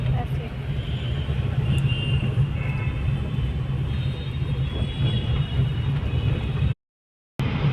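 A car pulls away and drives on a rainy Independence Day with traffic around, a steady low engine and road rumble throughout before a brief cut near the end.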